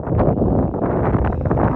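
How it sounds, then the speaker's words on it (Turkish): Strong wind buffeting the microphone on a highland plateau in a steady, loud low roar with gusty fluctuations, no voices. "Rüzgar var. Haliyle sert."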